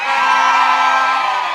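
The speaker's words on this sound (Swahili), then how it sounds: "Wapi shangwe na vigelegele?" Crowd at a school launch in Nyanguru, Kisii County, cheering with loud sustained ululation, a dense wall of high trilling voices and shouts holding steady throughout.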